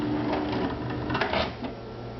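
A Pfaff 2170 embroidery and sewing machine runs an embroidery stitch with a close, steady mechanical whir and a quick run of small clicks and taps, with no talking over it.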